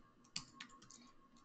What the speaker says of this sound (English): I am not typing well today